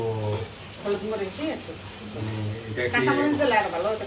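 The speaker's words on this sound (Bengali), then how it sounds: "এখানে আবার করছি পেঁয়াজ কষাই একটু" Onions sautéing in a hot pan give a steady, close sizzle and hiss that runs under almost continuous talking throughout.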